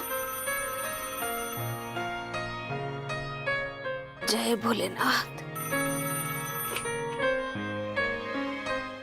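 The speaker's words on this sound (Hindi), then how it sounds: "किसका फोन आ गया?" A melodic phone ringtone plays on and on, briefly cut through by a person speaking in the middle before it resumes.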